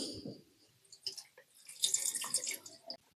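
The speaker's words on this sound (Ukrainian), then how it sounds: "Так, зараз зливатимемо цю воду." Water poured off soaking ginkgo seeds, splashing and trickling in short uneven bursts, fairly faint and close, with no voices.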